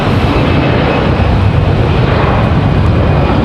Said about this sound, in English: So there goes our A321.